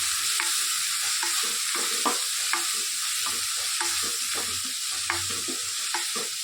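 Bhakarwadi sabji roasting in a pan, a steady sizzle broken by repeated scraping strokes of a spoon stirring at an uneven rhythm, close and alone without speech.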